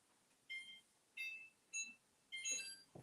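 Kitchen timer being set in a home kitchen while turkey sausage is being cooked, giving four short clusters of high electronic beeps with gaps between, fairly faint, with no talk.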